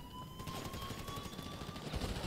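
Rapid gunfire from GTA Online during the Prison Break heist finale rattles on as a dense, continuous string of shots, moderately loud with no voice over it.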